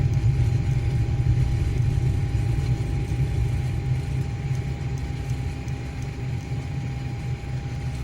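Learjet thrust reversers roaring during a landing rollout at Telluride in a flight simulator, a steady, dense, low rumbling roar that holds evenly throughout with no speech.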